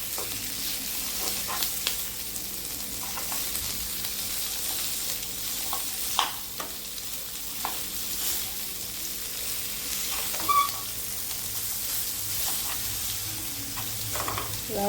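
Dried fish (karuvadu) sizzles steadily in hot oil in a pan while a spoon stirs and scrapes through it, with occasional clinks over a continuous crackling frying hiss.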